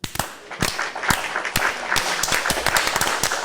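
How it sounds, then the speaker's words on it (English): A group claps together in a slow-building presidential clap, with sharp irregular hand claps that start sparse and speed up into a steady round of applause at close range. "But let's clap hands for ourselves guys."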